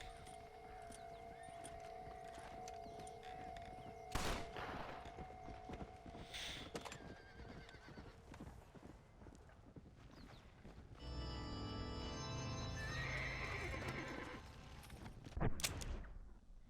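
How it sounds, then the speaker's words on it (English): Horse hooves clip-clop in Red Dead Redemption: Undead Nightmare, heard under a dense game soundscape of ambient noise and a sustained tone, with louder bursts of game sounds partway through. "Vamos a buscar el caballo del apocalipsis, a ver si lo encontramos."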